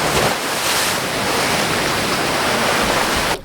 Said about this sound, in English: the sound that the waves make when they hit the rocks